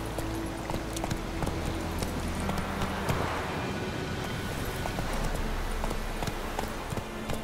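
Roach the horse galloping in The Witcher 3, a steady rush of hoofbeats over ambient outdoor noise, moderately loud and continuous throughout.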